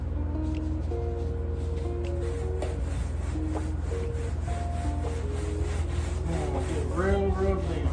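Salt is rubbed into an animal hide being prepared for taxidermy, a steady close scratchy rubbing under background music.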